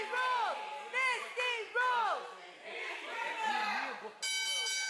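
A ring bell clangs at the start of a women's championship wrestling match, a bright sustained ring entering near the end after loud crowd shouting and cheering in a packed burger joint.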